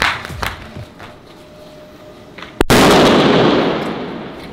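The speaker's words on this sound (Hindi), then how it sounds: "अब देखते हैं इसका ये वाला जो है सुतली बम" A sutli bomb firecracker set off during Diwali testing: after a few faint taps, a single sharp, loud blast bursts out and leaves a broad roaring rumble that slowly fades.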